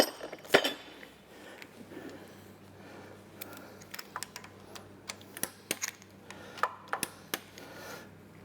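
Metal clinks and ratchet-like clicks of bolts being loosened on an Iveco Cursor 10/13 unit-injected engine during timing, scattered irregular sharp ticks over a low steady hum, close and moderately loud, no talking.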